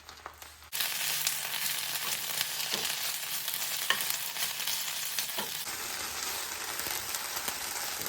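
Greens drop into a hot pan and start sizzling loudly and steadily as they wilt and fry. Occasional stirring taps sound throughout, with no voices.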